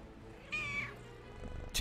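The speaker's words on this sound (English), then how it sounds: "did you hear the meow?" A cat lets out one clear, tonal meow close to the microphone, followed a moment later by a short, sharper second cry, both fairly quiet against a soft background hum.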